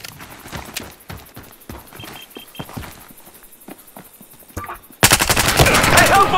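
Gunfire rings out in the video game Battlefield Hardline: scattered single shots and footsteps come first, then a loud, rapid machine-gun burst rattles without a break.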